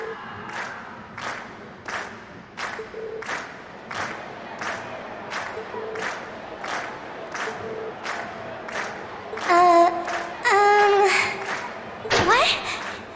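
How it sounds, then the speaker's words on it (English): A crowd cheers and applauds in a Trails of Cold Steel cutscene, a steady run of rhythmic clapping or chanting bursts, joined near the end by brief bright tones and a sweep. "we've heard your cheers loud and clear"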